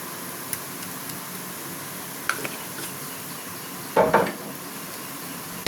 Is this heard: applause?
no